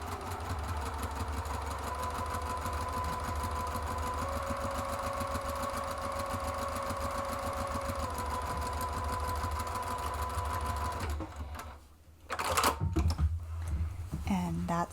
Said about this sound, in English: you can just pop that right up on your machine and stitch across there